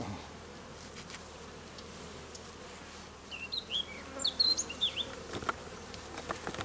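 Steady insect buzzing from many honey bees at a hive, with louder close buzzes passing by in the second half.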